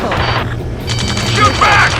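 Gunfire during a ground battle mission in Ace Combat 7: Skies Unknown, bursts of rapid shots and crashing impacts over loud battle noise, with shouted voices mixed in.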